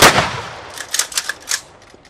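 A sharp, loud rifle salute volley crack opens at a cemetery funeral ceremony, followed by scattered echoing reports fading into the distance outdoors.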